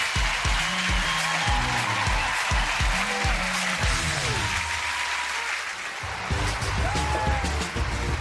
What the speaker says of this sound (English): ladies and gentlemen, give them a huge round of applause.